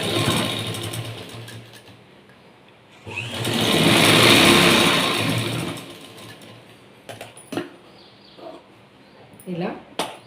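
A sewing machine stitches a straight-cut blouse in one sustained whirring run of a few seconds, loud and close, followed by scattered clicks and a few quieter handling noises.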